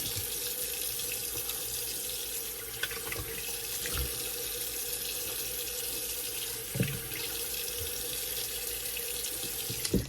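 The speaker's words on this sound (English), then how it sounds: "So let's rinse the alum." A bathroom tap runs steadily into a sink as an alum block is rinsed, a constant close splashing rush for the whole stretch with a few small knocks and clunks.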